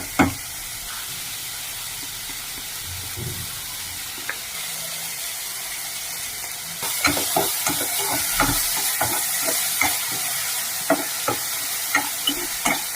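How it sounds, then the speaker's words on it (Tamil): Ingredients sautéing in a pan, with a steady close sizzle and frying hiss that grows louder partway through, broken by repeated scraping clicks as the food is stirred. "கொஞ்சம் நல்லா வதக்கிக்கோங்க"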